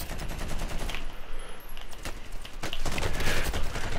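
Rapid bursts of video game gunfire crackle loudly in quick succession, with a short lull before heavier firing resumes in a shooter match.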